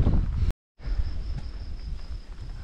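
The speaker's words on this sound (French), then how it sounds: "Deux bruits seulement, les oiseaux et le vent, c'est tout." Wind blowing steadily along a quiet countryside path in Spain, a continuous broadband rush that holds across the whole stretch, briefly cut to silence near the start, with no talk.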